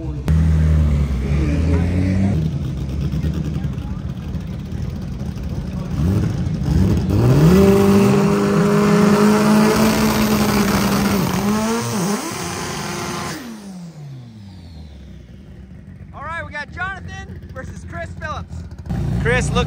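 Drag racing cars run at Bandimere Speedway. Loud engines rev and scream past with rising and falling pitch, then fade away, and a voice talks over the action.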